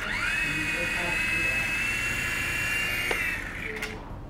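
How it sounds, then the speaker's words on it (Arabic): Small electric motor of a remote-controlled toy airplane spinning up to a steady high-pitched whine and holding for several seconds, close, while people talk nearby. "نشغل الطائرة من الجهاز الصغير هذا."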